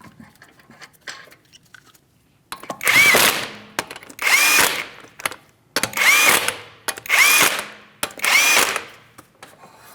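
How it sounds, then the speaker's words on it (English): An impact gun spins off 19mm lug nuts on a 2016-2025 Chevrolet Malibu wheel. Five loud, close bursts of whirring and hammering come at an even pace, each followed by a short pause. "go ahead and start on all 5 of your 19mm lug nuts"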